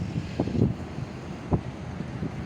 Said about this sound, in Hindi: बहुत गर्म और तेज़ हवा चल रही है